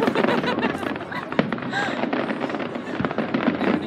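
Guy Fawkes Night fireworks crackle and pop in rapid, overlapping bursts close by, with excited voices talking over the continuous barrage.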